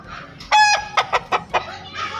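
A rooster crows loudly, then chickens cluck in several short bursts, close by, at a chicken market in Makassar.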